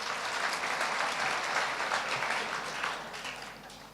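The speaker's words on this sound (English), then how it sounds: "Another round of applause for Mr." A graduation ceremony audience for artisans gives a sustained round of applause for Mr. Dlamini, a dense steady wash of many hands clapping at moderate distance, fading slightly toward the end with no talk over it.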